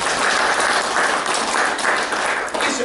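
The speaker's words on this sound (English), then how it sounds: "give a round of applause" Live hypnosis seminar audience claps steadily for a few seconds, a close, even wash of many hands with no break.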